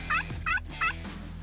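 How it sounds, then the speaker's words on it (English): A wild turkey gobbles three times in quick succession during a spring hunt in Quebec, the rattling calls fairly clear over faint outdoor background noise. "I can hear the turkeys coming on my right"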